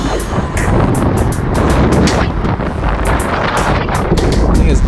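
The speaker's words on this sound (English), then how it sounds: "the wind I got a gust of wind" A strong gust of wind buffets the microphone during a group cycling ride, a loud, continuous roaring rush that stays steady for several seconds and drowns out everything else.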